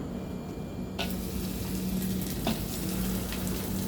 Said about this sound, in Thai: ทอดปลาแห้งค่ะ